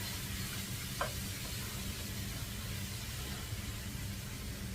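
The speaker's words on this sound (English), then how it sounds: "Frying in butter." Soft, steady sizzling of ground beef frying in butter in a pan, faint and continuous, with a single small tap partway through.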